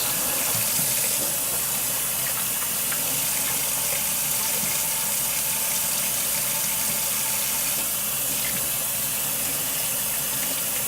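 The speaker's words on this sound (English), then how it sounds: "let me wash my hands." Water from a kitchen tap runs steadily and loudly into a sink while hands are washed, a continuous gushing splash with no talk.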